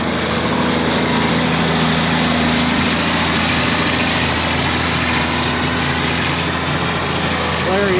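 Combine harvester engine running steadily close by, a loud continuous mechanical drone with a low hum, with a voice faintly mixed in over it.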